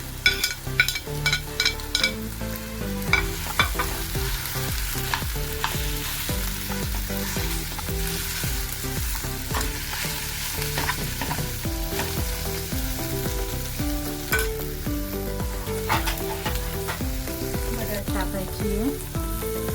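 Potatoes for aloo paratha sizzle and fry steadily in a pan, with a spoon scraping and stirring in clattering strokes throughout, close and without talk.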